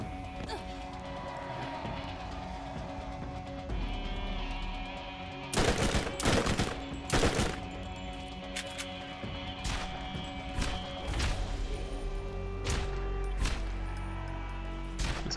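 Gunfire from a gun in the shooter video game Borderlands, bursts of rapid shots and sharp impacts in the middle and later, over game sounds with a voice talking.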